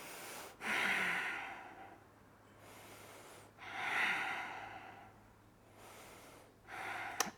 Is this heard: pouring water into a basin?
no